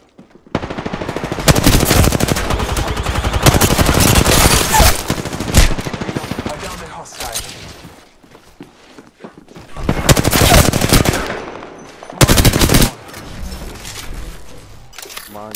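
Rapid bursts of automatic gunfire from enemies in the battle royale game Apex Legends, loud and close, with sustained volleys, brief pauses and a short sharp burst near the end.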